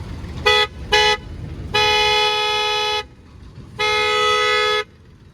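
A modified car horn heard from outside the car blares in two short toots, then two longer sustained blasts, loud and bright with a harmonic, musical tone.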